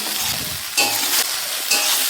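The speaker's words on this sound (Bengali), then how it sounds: "এই যে আমি ঢেঁড়স ভাজছি দেখুন" Okra sizzles loudly in hot oil in a wok, with brief scraping bursts as it's stirred around.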